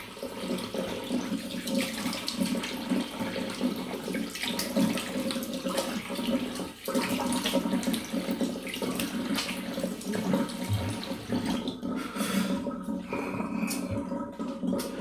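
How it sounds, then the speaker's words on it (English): Cold Northumberland tap water runs steadily into a sink, a continuous rushing splash that holds level for the whole stretch, close by. "Ice cold Northumberland water rinse."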